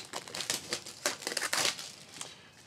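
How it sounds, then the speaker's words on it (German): Insta360 camera packaging being unpacked, giving a run of close crinkling and rustling bursts of plastic and paper that come in irregular clusters and fade toward the end, with no talk. "So, werde ich mal das Ding schnell auspacken."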